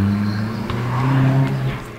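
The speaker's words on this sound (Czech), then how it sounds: "dnes narušují burácející motory závodních aut, protože na okolních horských silničkách probíhají oficiální závody" Race cars roar along mountain roads near the village of Tejeda on Gran Canaria during an official race, their engines rising and falling in pitch as they accelerate and pass, loud and fairly close.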